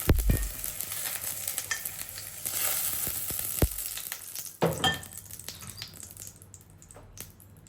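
Peppers sizzle and crackle steadily as they fry in oil in a pan, with a few sharper clinks and stirring scrapes; continuous and close, no voices.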